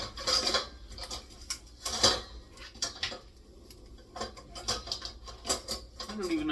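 Kitchen stirring utensils clatter and clink as someone rummages through them, a run of irregular metallic knocks and scrapes up close with brief gaps between bursts.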